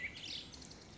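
Birds chirp faintly in a Maharashtra farm village, a few short high tweets over a quiet background in a brief moment.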